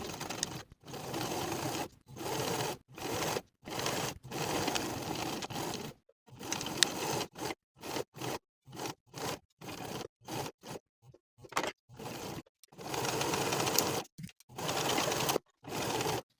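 A sewing machine back stitching a sweatshirt pocket runs in short, repeated bursts separated by brief pauses, a steady mechanical whir and clatter close by, with no talking.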